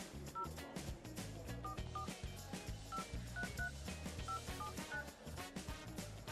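A series of telephone keypad tones as a number is dialed for a call, about a dozen short beeps in an uneven rhythm, clear and alone with no speech.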